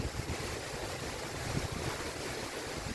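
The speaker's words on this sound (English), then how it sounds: "Still windy as crazy windy." Strong wind buffets the microphone in a continuous blustery rush with low gusty thumps, moderately loud and without voices, heard outdoors near flagpoles.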